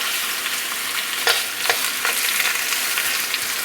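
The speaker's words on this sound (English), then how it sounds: "So in a medium pan, we're just gonna get these ribs in. And cook them easy." Pork ribs sizzle and fry in lard in a medium skillet over gentle heat, a steady close crackle with a few brief louder pops, no talking.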